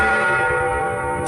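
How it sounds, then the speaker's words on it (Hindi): Bell ringing from inside a village well as a horror story sound effect, a loud, sustained, resonant metallic toll that hums on steadily without voices. "ठीक 3 बजे कुएं के अंदर से घंटी बजी"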